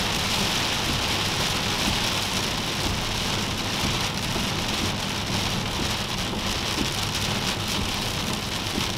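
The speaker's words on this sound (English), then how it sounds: "Driving through some really heavy rain right now." Heavy rain pounds steadily on a car driving through a thunderstorm, a dense, loud, unbroken roar of drops on the roof and glass with no pauses across the whole stretch.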